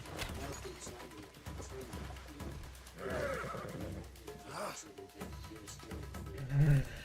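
A horse whinnies briefly near the end, with earlier neighing mixed under steady music and background voices from the video game Assassin's Creed Shadows.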